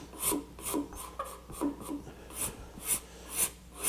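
A hand rasp works the wood of a small table leg in close, steady back-and-forth strokes, about eight gritty scrapes in an even rhythm with no talking.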